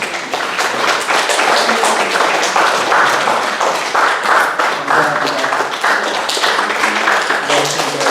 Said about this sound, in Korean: 우리 드릴 때 한번 박수로 우리 모두에게 환영하도록 하겠습니다